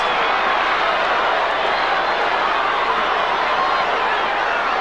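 At a 1996 AFL match between Collingwood and Fitzroy, the stadium crowd gives off a dense, steady roar of murmuring and shouting at an even loudness throughout.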